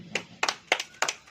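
A church congregation claps in five sharp, evenly spaced bursts during a Hindi sermon, each burst a quick group of slaps of moderate loudness with no voices over it.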